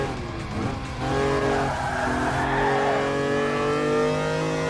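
Lancia Stratos mid-engine rally car in Gran Turismo Sport, engine droning steadily as tires squeal and slide through a turn, loud and close throughout with no talking.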